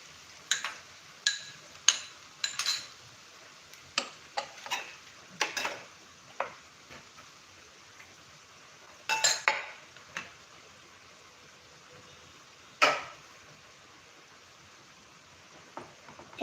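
Tomato puree being stirred in a frying pan, a spoon scraping and clinking against the metal in irregular sharp taps with quiet gaps between, close and fairly faint.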